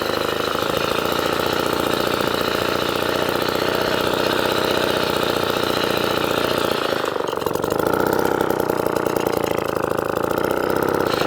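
Vintage Atco kick-start lawn mower with a Villiers Midget engine runs steadily and loudly up close, a continuous buzzing drone with a brief dip in the middle before settling back.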